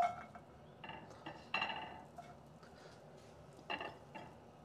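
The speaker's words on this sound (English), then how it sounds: "I'm going to add my vegetables into a pan." Vegetables tumbling into a dry pan, with scattered clinks and scrapes of utensil against metal in short irregular bursts, fairly quiet and close, no talking.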